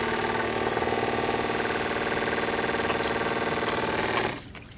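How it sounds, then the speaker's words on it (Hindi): An electric water pump motor runs with a steady, droning hum rich in harmonics. It stays loud and even, then cuts off abruptly just before the end, with no talking. "मोटर आवाज क्यों देती है?"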